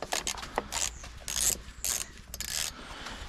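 8mm bolts being wound in by hand on a Honda BF2.3D outboard engine, giving a series of irregular ratcheting clicks and metallic rasps in short bursts, close up with no talk.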